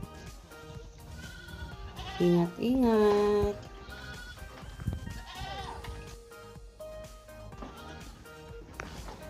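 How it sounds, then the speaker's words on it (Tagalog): Goats bleat on a small farm, a couple of loud wavering calls close by in the middle of the clip with more bleats further off, over steady outdoor background and a brief spoken word. "So, ito na yung mga kambing"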